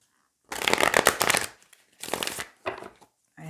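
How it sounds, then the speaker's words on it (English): Tarot cards are riffled and shuffled by hand close up, first in a long rapid burst, then in two shorter bursts separated by brief pauses, with no voices. "I like to shuffle on camera too, especially for those new to tarot and my channel"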